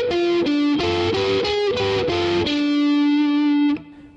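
Distorted electric guitar playing double stops in a blues turnaround, a rhythmic run of paired-string stabs that settles into one long ringing chord before being cut off.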